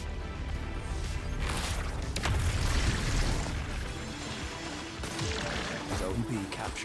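An explosive barrel blows up in a multiplayer shooter, a heavy boom with crashing debris amid ongoing gunfire and battle noise, while a voice talks over it.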